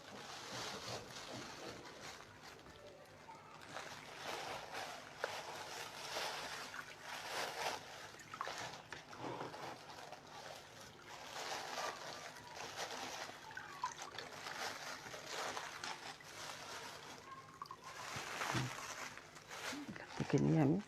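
Dyed fabric from a block-print, batik or tie-dye process is rinsed by hand in a bucket, with soft sloshing, trickling and splashing water that rises and falls over about twenty seconds, while a person talks throughout.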